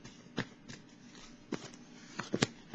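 A deck of tarot cards being cut by hand, a few soft, close card slaps and riffling flicks spaced irregularly against a quiet background.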